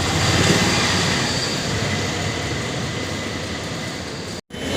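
A Kochi metro train rumbles steadily at a station, a continuous loud roar of wheels and motors that cuts out briefly near the end.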